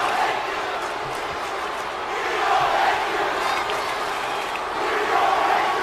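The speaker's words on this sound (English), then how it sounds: "You hear the crowd saying, "We all hate you,"" Wrestling crowd at a live pro wrestling show chanting in loud, rhythmic group swells, voices surging in waves about every two and a half seconds with steady arena roar between.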